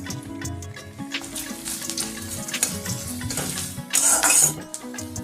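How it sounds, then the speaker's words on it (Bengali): Steady frying sizzle in a pan with occasional scraping and clinks of a utensil, a louder hiss rising near the end. "পেঁয়াজটা একটু ভাজা হয়ে গেছে"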